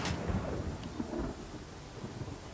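Soft rain patters steadily in the video game Pathfinder Kingmaker, with a low rumble of thunder rolling underneath, fairly quiet and without voices.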